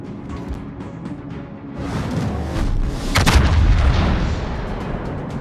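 Naval guns firing a salvo in World of Warships, with a loud boom at about three seconds over a steady rumbling battle backdrop.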